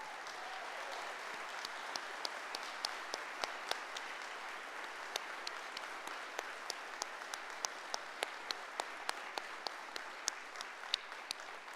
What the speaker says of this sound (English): So how about a round of applause for Mick Nicholson?